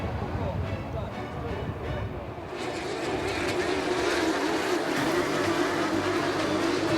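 RX150 rallycross race cars at a British Rallycross Championship round, a loud sustained engine roar that swells after a few seconds as the pack charges off from the start, with crowd or commentary noise blended underneath.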